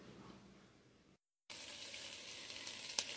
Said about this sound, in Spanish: aquí en el comal ya tengo asando dos chiles serranos y tres tomates verdes o tres tomatillos